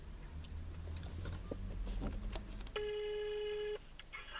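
An outgoing phone call produces a single telephone ringback tone, a steady electronic tone lasting about a second, near and clear over faint room noise and handling sounds.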